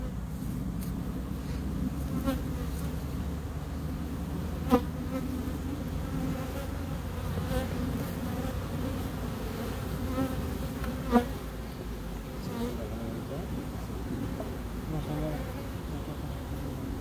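Honeybees buzzing steadily around an open hive as frames are moved from the old hive to a new one, a dense continuous drone with a few close passes, while a person talks over it.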